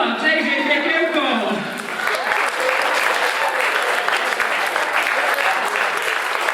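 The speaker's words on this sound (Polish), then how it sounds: "brawa dla Jakuba, JJ, Piekiełko!" A theatre audience applauds a Kabaret Krata cabaret performer at the 2014 Klamka show. Loud, dense clapping rises after a brief cheer or voice at the start and carries on steadily to the end.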